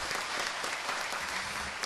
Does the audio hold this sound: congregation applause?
yes